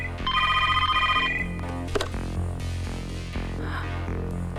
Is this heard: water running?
no